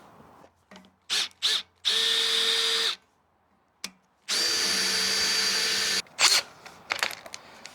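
Makita power drill boring holes through metal for a boom extension, in two sustained high-pitched whining runs of about a second and almost two seconds, with short clicks and trigger bursts between them, loud and close.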